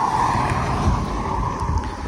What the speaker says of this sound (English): Oh, there is a car coming.